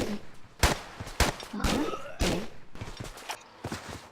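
Pistol shots in Tomb Raider 3 on an Antarctic level, a few sharp separate cracks spaced over several seconds, close and fairly loud, with some game movement noise between them.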